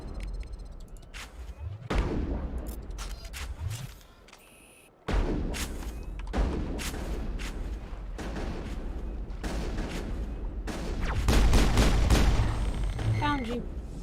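Gunfire crossfire erupts in the Mass Effect video game, dense bursts of rapid shots and sharp cracks coming in waves, loud and close, pausing briefly around the middle before resuming heavier, with a voice talking over part of it.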